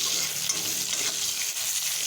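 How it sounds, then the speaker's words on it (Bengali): Eggplant fries in hot oil in a pan over high heat for a Bengali fish curry, a steady, dense sizzle with faint crackles, close and continuous with no talking. "আঁচ বাড়িয়ে আমি বেগুনটা ভেজে নেবো"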